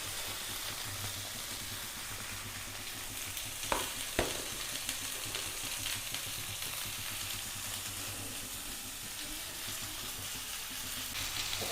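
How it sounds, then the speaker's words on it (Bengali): Chopped tomato dropped onto lightly fried spices in a hot pan for Bengaluru-style tomato rice, giving a steady close sizzle and frying crackle throughout with a couple of brief sharp clatters, no talk. "এবারে আমি এর উপরে এই যে টমেটোটা আছে ওইটা দিয়ে দেবো"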